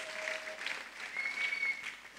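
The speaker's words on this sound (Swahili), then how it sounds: "Give an applause to Jesus." A church congregation claps together, a dense patter of applause rising and falling over two seconds, with faint voices and a tonal whistle mixed in.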